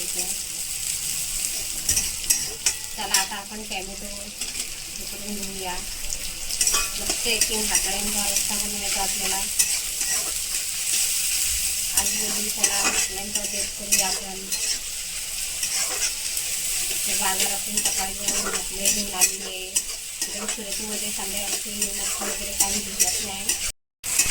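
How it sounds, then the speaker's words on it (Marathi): Onion and garlic frying in a pan, with a constant bright sizzle and frequent metallic scrapes and clinks as a spoon stirs them. The sound is close and sustained, and no one speaks. "कांदा टाकूया आपण कांदा लसूण चांगली करून घ्यायचे लाल करून"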